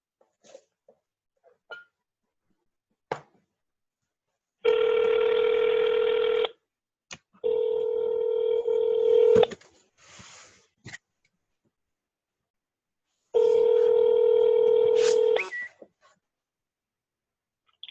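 A telephone call being placed: scattered keypad beeps, then three long, evenly pitched ringback tones separated by pauses, clear and close against a quiet background.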